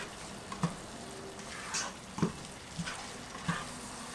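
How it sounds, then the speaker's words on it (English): Vegetable broth and seasoning simmer over medium-high heat in a pan for Mexican rice, giving a faint, steady sizzle and bubbling with a few soft clicks and taps of a utensil. "So just let it simmer over medium-high heat."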